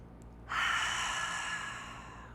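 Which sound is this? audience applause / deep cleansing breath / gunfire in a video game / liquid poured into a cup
deep cleansing breath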